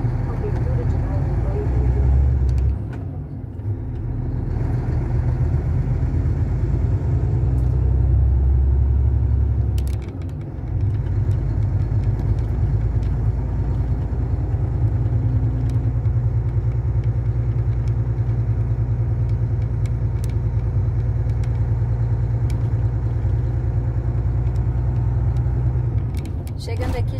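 A truck engine rumbles low and steady while the truck drives near a meatpacking plant in Uberlândia, a continuous close drone with brief dips, and someone talks over it throughout.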